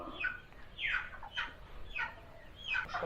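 A hen clucks in a series of short, throaty calls spaced about half a second apart, close by and fairly clear.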